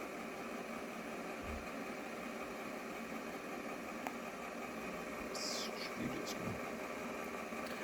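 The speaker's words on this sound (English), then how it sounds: "we're going to turn the pump on" Pump on an Apexmaker X1 board-printing machine runs as a steady, even mechanical hum and whir throughout, fairly faint and unchanging, with a couple of soft knocks and no clear talk.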